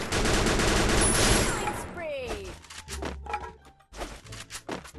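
Gunfire from the mobile battle royale game Free Fire fills the opening seconds as a loud, dense burst of rapid shots. A few scattered shots and in-game effects follow while someone talks over them.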